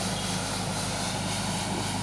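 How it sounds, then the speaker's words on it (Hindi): A tractor-mounted hydraulic road sweeper brushing a road gives a steady, loud, continuous engine drone with broadband brushing noise that stays even throughout. "ये देखिए बूमर ट्रैक्टर पे बूमर लगाया है और"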